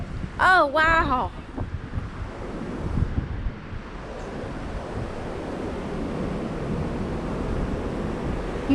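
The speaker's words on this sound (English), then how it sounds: "Ooh, it's windy." Wind gusting across the open deck of the Norwegian Bliss cruise ship, a broad steady rush and buffeting against the microphone that builds and holds after a brief exclaiming voice at the start.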